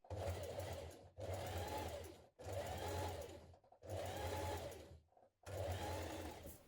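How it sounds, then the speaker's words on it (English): Close, quiet sewing machine top stitching around a T-shirt in five bursts of fast whirring, each about a second long, broken by short silent gaps, with no talk. "we're going to top stitch it all the way around"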